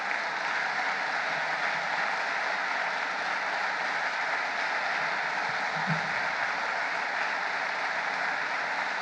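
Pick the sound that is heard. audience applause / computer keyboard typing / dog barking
audience applause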